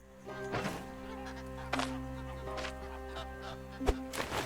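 Ducks in the video game Stoneshard give a few scattered quacks and clucking calls over a steady low ambient drone, fairly quiet, with a sharper call near the end.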